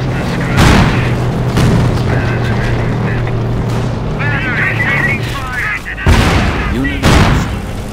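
Rocket explosions in the PC strategy game Company of Heroes: Tales of Valor, heavy booming blasts at intervals amid continuous battlefield rumble and firing, with a voice talking over the din.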